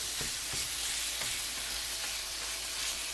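Ground beef sizzles loudly in a hot pan as it is broken up and stirred for a keema mutter pilaf, a constant frying hiss close by with occasional soft scraping knocks of the spoon.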